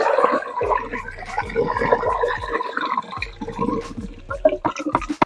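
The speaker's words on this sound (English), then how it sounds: "That's the fertilizer coming out." Liquid fertilizer gurgles and glugs from the outlet of a homemade food-waste biogas digester, coming in repeated bubbling surges with dripping between them, close and fairly loud.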